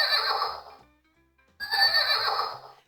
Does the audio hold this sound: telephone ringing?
no